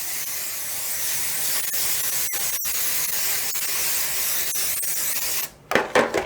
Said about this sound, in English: I want to spray this pan really good